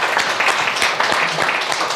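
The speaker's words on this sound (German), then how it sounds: "Das ist erstmal ein Applaus." An audience applauds after a tech talk presentation, a dense, loud wash of clapping that stays steady from start to finish.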